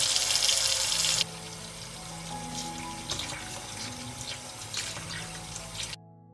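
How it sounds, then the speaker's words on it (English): Fresh raspberries are rinsed under a running kitchen tap, a loud gush of water at first that then drops to a softer trickle with light splashes and drips, close by. "I'll wash the raspberries first."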